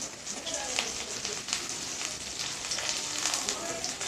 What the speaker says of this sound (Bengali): একটু আমি ভালো করে নাড়াচাড়া করে একটু ভাজা ভাজা করে নেব